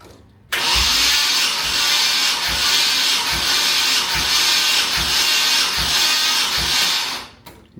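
A Nissan S14 240SX engine cranks on the starter during a compression test, a loud hissing whir with about six rhythmic compression pulses, starting abruptly and cutting off at the end, close up.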